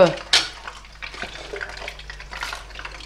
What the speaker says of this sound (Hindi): इसको हर तरफ से फ्राई करना है, और इसमें से छींटे उड़ती हैं